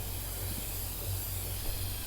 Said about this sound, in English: It's just us spray painting.